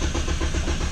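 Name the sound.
big block 2Sexy car engine starting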